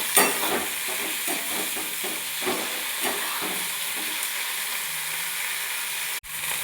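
Chopped tomato frying with fried onions in a pan, a steady close sizzle broken by repeated scraping stirs, with one brief sharp drop near the end.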